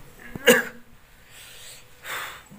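A person with a cold gives one sharp, close cough, followed by softer breathy exhalations in an otherwise quiet room.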